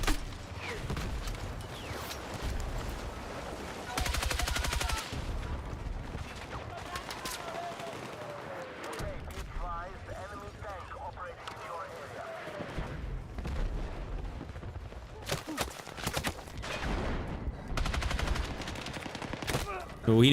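The B36 rifle in Battlefield 6 fires in repeated rapid bursts of sharp automatic gunfire, with other shots and explosions in the game's battle around it and a voice talking now and then between the volleys.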